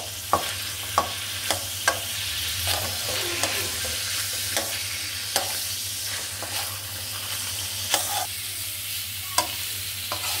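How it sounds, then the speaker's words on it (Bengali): Garlic and green chillies fry in a little oil, giving a steady close sizzle punctuated by regular sharp scrapes and taps of a spatula against the pan, with no voices. "তেলের মধ্যে ভালোভাবে রসুন কাঁচামরিচ দিয়ে ভেজে নেওয়া হচ্ছে।"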